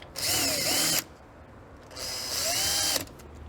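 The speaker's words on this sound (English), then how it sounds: "I measured twice, so I'm only drilling once" A power drill whines in two bursts of about a second each, drilling into a floor, spinning up and down, with a short pause between them.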